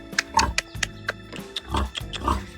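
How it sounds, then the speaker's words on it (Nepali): A large pig kept by an old man in a village grunts repeatedly, loud and close, in a steady run of short snorting oinks with brief pauses between them. "अब सुँगुर त्यहाँको बाजेले पालेको सुँगुर देखाइदिन्छु"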